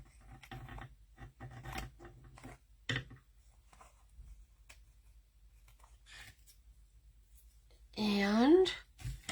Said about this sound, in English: So let's just cut this off first.